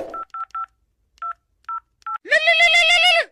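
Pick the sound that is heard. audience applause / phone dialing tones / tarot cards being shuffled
phone dialing tones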